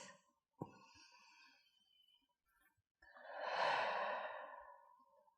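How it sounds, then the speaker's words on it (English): One slow, deep breath drawn in through the nose, a pause, then a long audible exhale, soft and close in a quiet room during a gentle floor stretching routine. "Nice deep breath in and exhale"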